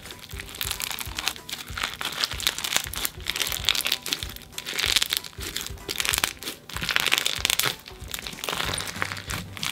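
Clear slime heavy with glitter and sequins is worked by hand, giving a dense, continuous run of close crackling and crunching pops with no speech.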